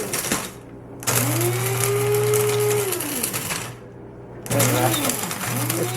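A blender grinds dehydrated ginger into powder with a loud, steady whir that cuts out twice and starts back up.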